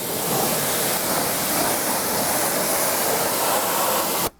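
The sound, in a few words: water rinsing a car wheel during detailing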